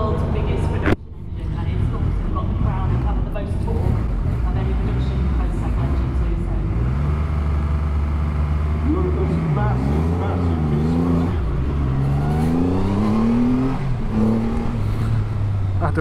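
Triumph Rocket 3, a 2.5-litre production motorcycle, accelerates hard indoors during a drag run with wheel spin, a loud engine roar rising in pitch through several gear changes after a sharp bang at the start, with talk over it.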